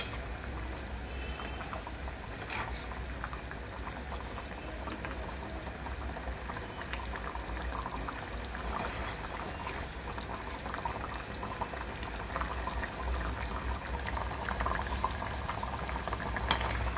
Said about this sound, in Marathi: आता ह्यांना एकच उकळ अशी गरम द्यायची